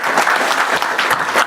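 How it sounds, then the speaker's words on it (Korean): An audience in a government meeting room, gathered after a presidential summit, claps together in dense, sustained applause, many hands close by and loud throughout with no speech over it. "잘했다고 박수 쳐주신 거죠?"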